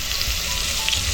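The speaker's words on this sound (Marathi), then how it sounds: "सगळं चांगलं परतून घेतलं तेलामध्ये." Onion fries in hot oil for a tempering of mustard seeds, cumin and asafoetida, giving a dense, even crackling sizzle that stays close and steady throughout the short moment.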